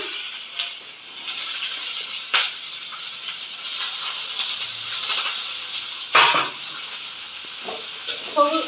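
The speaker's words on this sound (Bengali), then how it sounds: "সবজিগুলো খুব ভাজা হবে না একটু হালকা হালকা ভাজা হবে" Chopped carrot, beans and capsicum sizzling lightly in a pan, a steady close hiss with occasional stirring clinks and scrapes, mostly free of speech.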